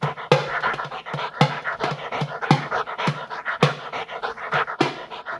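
A dog pants steadily and loudly up close, quick rhythmic breaths repeating throughout with no voices.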